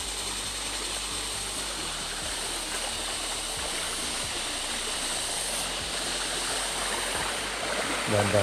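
A stream flows steadily beside a tunnel, a loud, dense rush of water that holds constant the whole time with no voices.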